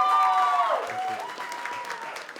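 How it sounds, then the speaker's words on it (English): Studio audience applause fills a television talk show set, a steady wash of clapping running throughout while a host's voice trails off over it at the start. "a big round of applause for Young Nats, Joel Rowan."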